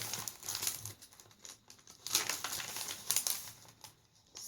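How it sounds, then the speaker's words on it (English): A glassine bag crinkles and rustles as it is handled up close, with irregular bursts of crisp crackling among paper-handling noises and no talking. "Here's the glassine bag."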